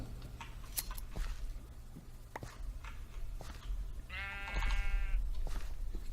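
Blocky Minecraft sheep bleat in a video game, one clear wavering bleat standing out over quiet game ambience and soft footsteps, with fainter bleats earlier.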